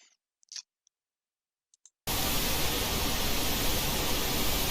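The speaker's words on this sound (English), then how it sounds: "Just a simple white noise that I'm going to pan around in channels. You can hear it moving around." Steady white noise, panned around between channels in a 3D spatial sound demo, cuts in abruptly after a few faint clicks and then holds loud and continuous.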